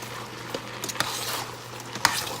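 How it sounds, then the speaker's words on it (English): Okra for okra soup cooking in a pot with palm oil in a home kitchen, giving a soft steady sizzle broken by a few sharp clinks of a utensil stirring against the pot. "Now just added okra. Okra had just gone in."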